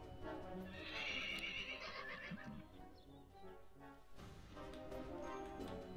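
Horses in the video game Dwarf Fortress neighing, a whinny followed by another shorter one, with soft hoof clip-clop, faint game audio without talk.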